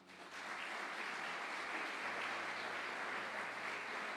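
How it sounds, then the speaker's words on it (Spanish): A church congregation breaks into full, dense applause that swells within half a second and then holds steady and loud, a continuous wash of many hands with no talking over it. "Denle un aplauso a Jesús."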